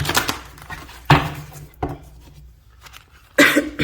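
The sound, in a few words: shuffling tarot cards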